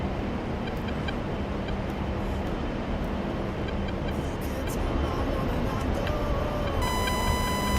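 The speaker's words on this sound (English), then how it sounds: "It's a jet flying low." A loud, steady roar of a low-flying jet fills the scene, broadband and constant, with faint electronic beeps and tones near the end.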